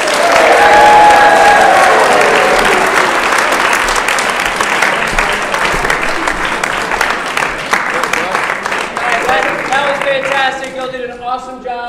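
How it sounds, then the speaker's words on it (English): Audience of a school Shakespeare festival applauding after a performance, a dense, loud wash of clapping that carries on steadily and thins toward the end as voices start to come through. "One last round of applause"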